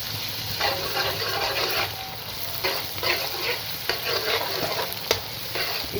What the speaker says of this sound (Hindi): इसको भी थोड़ा ही हमने फ्राई करना है, सिर्फ इसका कच्चापन अदरक और लहसुन का दूर हो जाए।